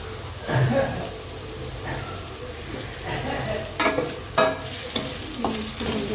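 Onion, tomato and chili stir-frying with turmeric and salt in a pan for churumuri, a soft steady sizzle with a few spoon scrapes and clinks against the pan.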